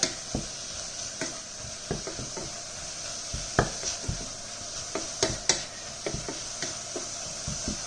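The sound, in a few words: beef frying and being stirred with vegetables in a pan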